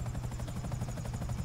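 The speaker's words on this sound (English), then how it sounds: "I'm just gonna try to fly the fucking helicopter onto the bridge." Helicopter in the video game GTA 5, its steady rotor chop throbbing rhythmically with a low engine drone, continuous and fairly loud throughout.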